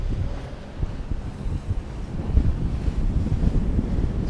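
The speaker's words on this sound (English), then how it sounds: "It is pretty windy over here." Strong wind buffets the microphone on a 65-foot Hatteras boat out at sea, with waves surging and slapping around the hull in a loud, continuous, gusty roar.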